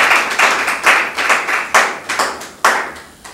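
An audience claps rhythmically in unison at a church gathering, a loud, steady beat of hand claps repeating about twice per second for several seconds.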